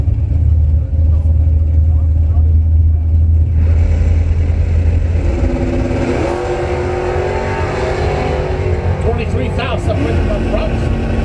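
Drag race between a Ford Mustang and a Dodge Challenger: a loud, steady engine drone that builds into roaring acceleration as the cars launch, with a crowd-like wash and an announcer talking over it.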